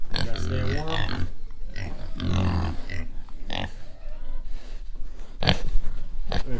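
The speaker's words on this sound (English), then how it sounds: "I hear you, pigs." Pigs in a barn grunt and oink, preparing for a winter storm, with a steady run of close, loud grunts and sharp squeals, some bursts standing out over the rest and someone speaking at times.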